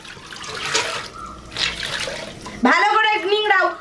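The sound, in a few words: wringing water out of a cloth into a bucket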